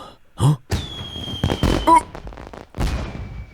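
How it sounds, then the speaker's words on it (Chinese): Firecrackers and fireworks go off in a string of sharp bangs and crackles, with a thin whistling tone running through several of the bursts. "这个是鞭炮和烟花"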